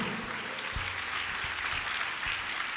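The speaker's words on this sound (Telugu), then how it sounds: "అందరు గట్టిగా చప్పట్లు కొడదాం" A church congregation claps in a steady rhythm, with sharp hand claps repeating evenly against a soft hall ambience, moderately near but fairly quiet overall.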